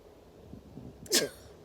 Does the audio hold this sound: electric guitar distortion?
no